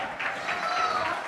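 An audience gives a short round of applause, a dense, steady patter of many hands clapping indoors with no break across the brief moment.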